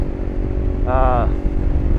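A Honda CRF300L Rally motorcycle climbs a highway mountain pass in fourth and fifth gear, revved high. Its engine gives a steady, close droning roar, with a short tonal whine rising briefly near the middle.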